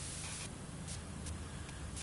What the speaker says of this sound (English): I can spray up into it, and that'll clean most of it